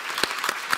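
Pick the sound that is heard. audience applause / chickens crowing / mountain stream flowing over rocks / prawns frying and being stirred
audience applause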